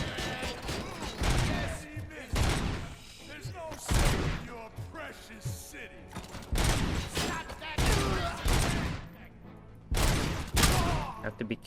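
Repeated bursts of heavy gunfire in the PC shooter Robocop Rogue City, loud blasts arriving every second or two with mechanical clatter and a voice talking between shots.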